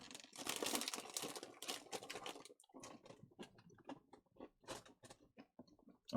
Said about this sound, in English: I'm still crunching.